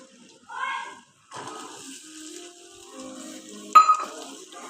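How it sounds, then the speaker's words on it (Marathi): Green peas stirred into fried spices in oil in a pan, quiet intermittent sizzling with soft stirring scrapes and a louder clatter near the end, close with no voices. "ह्याच्यामध्ये वाटाणे ॲड करायचा आणि मस्त असं हलवून घ्यायचं."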